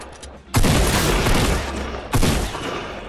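Gunfire in the Fortnite video game, two loud bursts of rapid shots, the second starting about a second and a half after the first, close and dominant.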